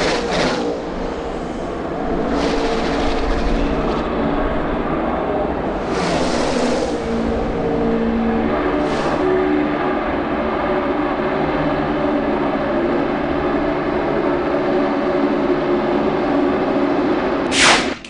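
NASCAR stock cars racing around the Daytona 500 oval, a dense continuous roar of engines that holds steady for the whole stretch, with a few brief surges as cars sweep past.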